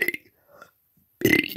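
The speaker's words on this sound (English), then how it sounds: "I'm gonna burp in ABCs." Loud, drawn-out human burps during a burping stunt: a short belch at the start, a quiet gap, then a long rough belch near the end, close to the listener.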